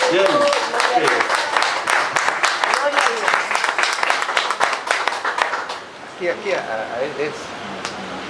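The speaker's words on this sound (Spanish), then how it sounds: "Un aplauso al Señor." A burst of clapping from a church congregation, dense at first and then thinning out, with a voice speaking over the end.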